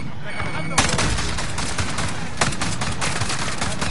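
Gunfire in a first-person shooter video game, dense rapid shots and sharp bursts over a loud continuous din of battle, with a voice talking underneath.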